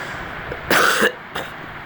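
A cow gives one harsh, loud cough, then a fainter short one a moment later, over a low background hiss.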